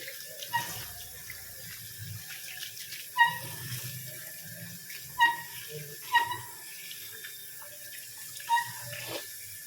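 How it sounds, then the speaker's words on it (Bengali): Vegetables for veg momo rinsed in a sink under a running tap, soft steady trickle with occasional louder splashes and clatters as they are handled, close and fairly quiet. "এখন ভালো করে ধুয়ে নিচ্ছি।"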